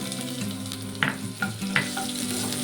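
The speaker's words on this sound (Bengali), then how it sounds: "তেলটা গরম হয়ে গেছে, দিয়ে দেবো কাঁচা লঙ্কা কুচি, রসুন আর আদা কুচি দিয়ে দেবো।" Chopped green chilli, garlic and ginger sizzle steadily in hot oil in a kadai for a vegetable chow mein, with a few sharp clinks of stirring over the continuous frying hiss.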